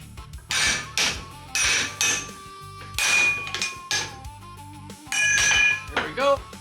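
Hammer blows striking a Harley-Davidson Shovelhead flywheel to knock it loose during a bottom end rebuild, several loud metallic smacks with ringing overtones spaced about a second apart, close up in a workshop.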